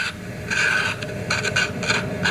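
A finger barely scratching apple skin beside a knife to mimic peeling, a close, steady raspy rubbing with a few brief surges, alone with no voices.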